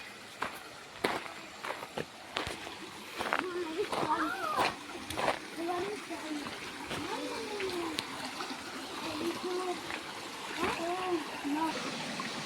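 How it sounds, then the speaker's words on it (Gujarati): Water gurgling and splashing at the Dhareda waterfall between two hills, the source of the Saraswati river, heard as a steady wash under frequent sharp footstep-like knocks and ongoing voices talking nearby. "પાણીનો અવાજ આવે"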